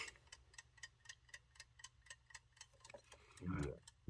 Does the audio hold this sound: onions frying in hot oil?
no